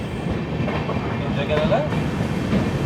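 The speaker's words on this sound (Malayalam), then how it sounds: "നമ്മൾ ജസ്റ്റ് കാഞ്ഞങ്ങാട് സ്റ്റേഷനിലേക്ക് കയറുകയാണ്" Poorna Express rolling into Kanhangad station, heard from inside an AC 3-tier coach as a steady rumble with rhythmic wheel clatter and a faint squeal, and a voice talking over it.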